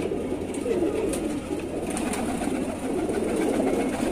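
Kali dubaj female pigeon from Sambhal, soft cooing and rustling blended into a continuous murmur of other pigeons nearby, without voices.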